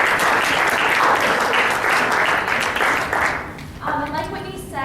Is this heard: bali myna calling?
no